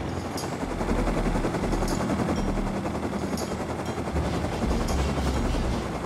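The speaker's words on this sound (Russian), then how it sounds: "у меня появился коптер, я принял решение полетать по земле" A small minicopter flies low over the ground in a video game, its rotor a steady, loud, unbroken whir with faint regular clicks recurring about every second and a half.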